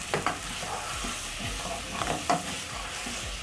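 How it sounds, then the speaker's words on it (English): Tomato paste being stirred into a sizzling pot of beef and rice, with a faint steady frying hiss under soft scraping strokes of a spoon against the pot. "Stir in and let everything cook, giving you a very awesome tomato sauce or tomato base."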